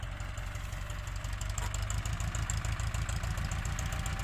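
A Ford 6640 tractor engine idles low and steady with a rhythmic knocking chug, fairly close, and no one speaking.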